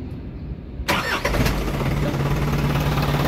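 An Isuzu NPR truck engine cranks and catches abruptly after a quiet moment, then settles into a loud, steady idle with a low hum, recorded close by while troubleshooting hard starting.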